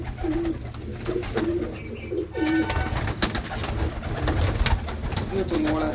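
An old female pigeon and others in a breeding loft give repeated throaty coos, close and fairly loud, over a steady background hum with scattered rustling and clicks.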